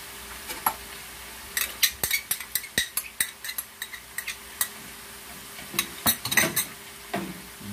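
Pork leg with soy and oyster sauce stirred in a pan: a close run of sharp utensil clacks and scrapes against the pan in an irregular rhythm, with a faint sizzle underneath and short quiet gaps.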